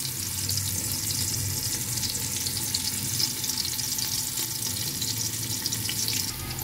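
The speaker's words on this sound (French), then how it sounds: "Mon oignon est fini de frire" Onion frying toward golden in a pot for spicy chicken stew gives a continuous close sizzle and crackle, steady and unbroken, with a faint watery undertone.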